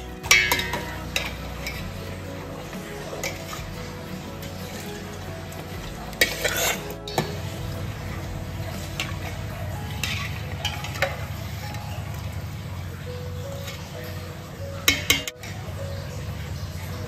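Washed, soaked rice tipped into a pot of boiling water and stirred for rice in a home kitchen, giving a steady bubbling, sizzling wash with a few metallic clinks of spoon against pot.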